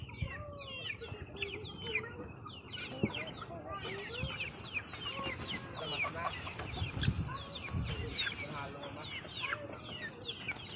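Backyard free-range chickens cluck and chatter continuously at close range, with many overlapping calls over a busy farmyard background and some voices talking.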